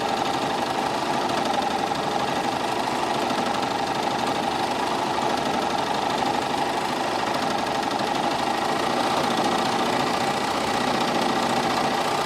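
A sewing machine fitted with its universal presser foot runs continuously through the whole stretch, a steady mechanical whir and hum at even loudness with no talking.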